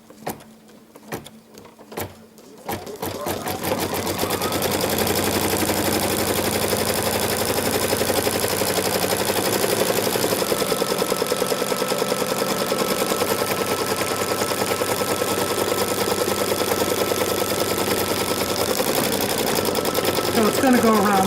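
After a few clicks, an embroidery sewing machine starts stitching vinyl onto fabric with a loud, steady, fast mechanical whir and rattle that runs nearly unbroken for about eighteen seconds.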